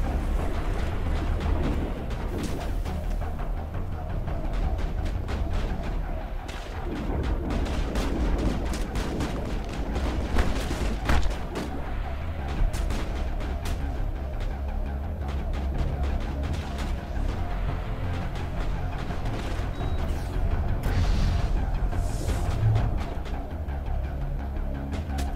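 Explosions and gunfire fill a Mass Effect battle, a dense continuous barrage of booms and cracking shots at a steady loud level throughout.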